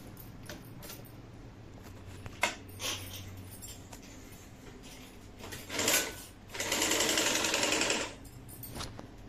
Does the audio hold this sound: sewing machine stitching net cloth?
yes